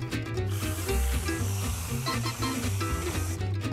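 Whipped cream sprayed from a can onto a homemade blended vanilla shake, a close hissing spray in short bursts, heard over background music.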